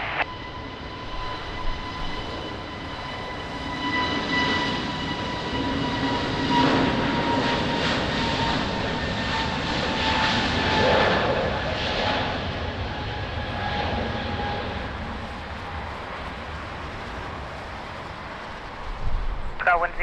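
An airliner on approach to Lisbon Airport's runway 20 in wind and rain gives a long, steady engine roar with a high whine, swelling in the middle and easing off, while a voice talks over it.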